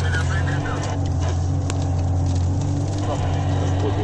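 A vehicle engine held under steady load as the driver accelerates, a loud, constant low drone close by with faint crackles, while voices speak over it.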